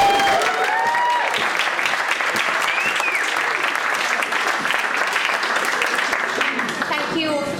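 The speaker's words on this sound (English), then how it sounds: "Round of applause." Applause from wedding guests, dense sustained clapping at close range with a few cheers and a voice briefly audible underneath.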